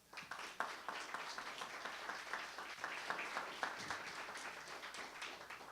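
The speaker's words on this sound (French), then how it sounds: "applaudissez-les encore tout de suite" Audience applause at the Quebec launch of La Grande Lecture 2010, clapping for learners in training, a steady, fairly faint patter of many hands lasting throughout with no talk.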